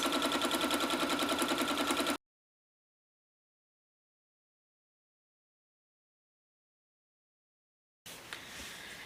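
A sewing machine stitches quilt fabric for a quilt trading card with an even, rapid mechanical buzz lasting about two seconds. Then it stops dead into silence before a faint handling noise resumes.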